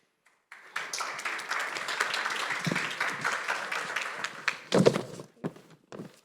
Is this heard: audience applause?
yes